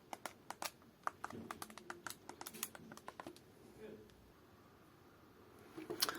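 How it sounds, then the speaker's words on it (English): Clicky top buttons on a PowKiddy X18S handheld game console, a quick irregular run of small sharp clicks close up, fading out midway, then a few more clicks at the end. "these the top buttons up here, they are all very clicky"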